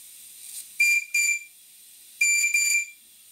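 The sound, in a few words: model steam boiler safety valve blowing off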